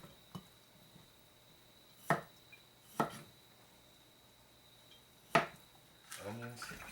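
A knife cuts through steamed beets on a cutting board, four separate sharp thunks spaced over several seconds against a quiet room, followed at the end by a brief voice.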